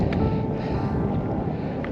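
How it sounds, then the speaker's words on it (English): Wind gusts across the exposed summit of Grasmoor, a loud rough rumble buffeting the microphone for a couple of seconds with no one speaking. "Wind's getting up there now"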